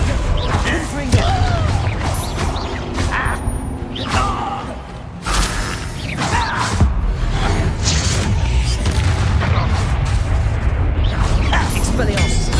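Confringo fire-spell explosions burst during Hogwarts Legacy combat among other spell effects, with repeated thudding blasts and crashes over a dense, loud mix of battle noise.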